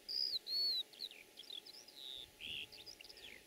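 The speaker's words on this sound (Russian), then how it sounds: "Здесь много полевых птиц, луней, трясогузок, уже нашедших место для гнезд." Field birds such as wagtails chirp and whistle in a wide grassy gully with scattered trees and shrubs: bright, varied tweets and trills, fairly close, in quick irregular bursts over a quiet background.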